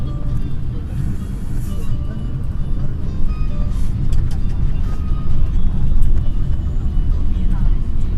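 Cars idling and creeping in a traffic jam on a road under concrete repair in Pekuncen, a steady low engine rumble close by with people talking over it.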